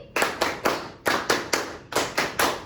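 Children clapping in unison in a classroom, three crisp group claps in quick succession, a pause, then the same triple pattern repeated twice more, close and clear.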